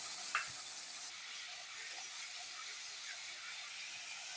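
A spice mix of turmeric, salt, dry red chilli and five-spice seeds sizzles in hot oil in a Bengali kitchen, a steady, dense frying hiss with faint stirring clinks close up, with no speech.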